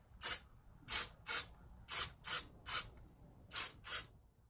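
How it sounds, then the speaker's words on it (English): Spray adhesive hisses onto a joystick's rubber feet in eight short, close bursts, some in quick pairs, with quiet pauses between. "I use a spray adhesive on each one of the rubber feet"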